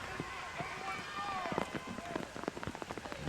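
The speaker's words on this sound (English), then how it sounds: "You hear the rain banging on the camera mics." Rain pelting the camera microphones at a rainy night high school football game, Opelika vs. Lee-Montgomery, a steady wash of drops under crowd noise and a commentator's talk.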